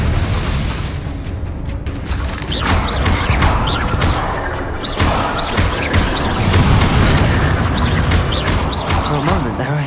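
Confringo fire-spell blasts boom and crash inside the Hogwarts Legacy video game, loud repeated impacts over dense battle noise with music, while a voice calls out spell names throughout.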